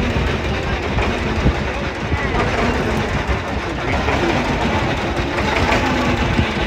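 A boat engine drones steadily and loudly on the Ganges at Nabadwip ghat, a continuous rumbling chug with faint voices beneath it.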